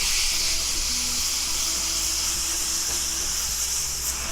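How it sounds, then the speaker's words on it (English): Meat for a cheesesteak sizzles steadily in a hot pan, a constant close hiss of frying with faint hum underneath and no talking. "So now I'm cooking the meat."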